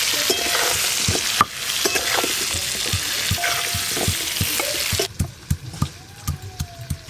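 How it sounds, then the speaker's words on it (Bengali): Potatoes sizzle in a pan with turmeric and salt for a chicken curry, a loud steady frying hiss broken by scraping stirs, dropping quieter with spaced clicks toward the end. "মাংসের জন্য আলুগুলো এদিকে আমি ভালো করে ভেজে নেব।"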